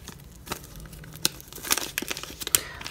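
A vanillin packet tears open in a few quick, crisp rips and crinkles, close by, with short quiet gaps between them.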